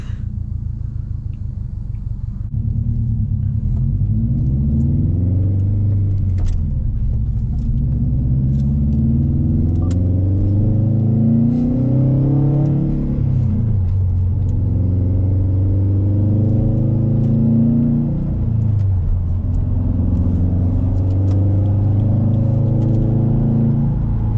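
A 2018 Subaru STI engine with a muffler-delete axleback exhaust revs hard and roars raw and unmuffled, pitch climbing and dropping in several sustained pulls past 4,000–5,000 RPM, with no talking.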